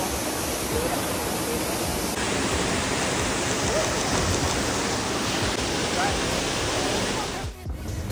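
A waterfall on Maui, Hawaii roars as a dense, steady wash of falling water, close and loud throughout, with a brief dip near the end.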